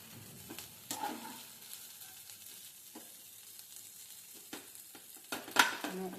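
Dudhi muthiya shallow frying in a kadhai, a quiet low sizzle with scattered scraping and clinking as pieces are turned and broken apart, one sharper clatter near the end.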